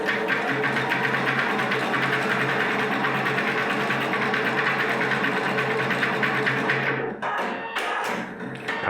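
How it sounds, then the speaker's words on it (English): A Husqvarna Topaz 25 embroidery machine stitching a design onto fabric, giving a fast, steady mechanical whirring hum with rapid needle ticking, close and loud, then a few irregular clicks and knocks as it stops near the end. "the machine has now started putting its design onto the fabric"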